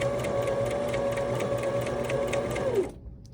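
A Brother SM2700 sewing machine stitches fabric with a steady, rapid mechanical chatter and hum, close and alone, then stops abruptly near the end.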